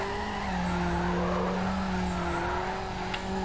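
A car drifts sideways in Need for Speed Underground on Xbox, with a sustained engine drone and steady tire squeal held for several seconds, fairly loud and continuous.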